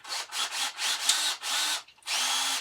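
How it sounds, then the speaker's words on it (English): Power drill boring a pilot hole in wood, heard as several close, loud whirring bursts separated by short pauses, the motor revving up and down with each push. "I'm going to drill a pilot hole"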